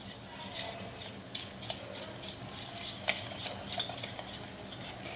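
Whisking gram flour batter seasoned with turmeric and asafoetida for khandvi, a steady run of light scraping and tapping strokes against the bowl, close and moderately loud with no talking.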